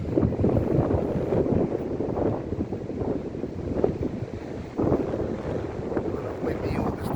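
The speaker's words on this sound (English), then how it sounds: "On a windy August day in Cape Town." Strong, gusty wind buffets the microphone on the Black Rocks beach coastline in Cape Point Nature Reserve, Cape of Good Hope, on a windy August day, with a low roar and possible surf beneath, steady throughout.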